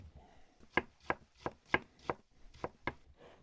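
A knife chops cabbage on a cutting board resting on an icy, frozen outdoor table, about eight crisp, evenly spaced thuds, close and fairly quiet.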